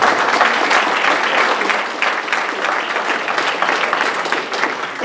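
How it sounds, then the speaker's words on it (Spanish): A church congregation at an anniversary service claps together, a dense, loud, sustained round of applause filling about five seconds, with a few voices faintly mixed in. "Dele palmas al Señor."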